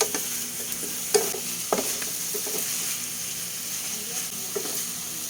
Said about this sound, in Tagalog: At haluin natin ulit.